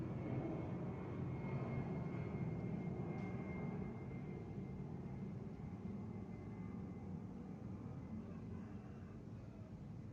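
Steady, broad jet roar of an airplane taking off or landing at Yogyakarta International Airport, continuous and fairly distant, with no voices over it.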